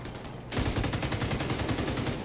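Enemy automatic gunfire in the video game The Division 2: Warlords of New York bursts in suddenly after a half-second lull, a rapid, evenly spaced stream of loud shots that continues to the end.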